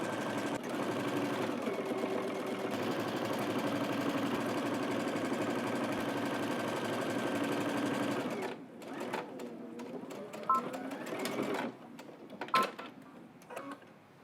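A sewing machine runs continuously for about eight seconds stitching a bodice facing seam at 5/8 inch, a steady whirring hum, then stops, leaving light handling clatter and scattered clicks.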